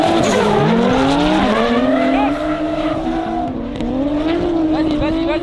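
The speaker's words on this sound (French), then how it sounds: "une très belle battle de véhicules japonaises, la S14 pilotée par Michael Perrotet, suivi de Guillaume Glio" A Nissan S14 and a Toyota Supra battle at a French drift championship at Val d'Argenton, engines wailing loud and close with long tire squeals and shifting revs, under excited commentary.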